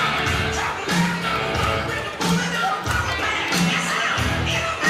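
Arena crowd noise at a taekwondo Grand Prix forms a dense, steady roar, with rhythmic low thumps recurring about once a second underneath.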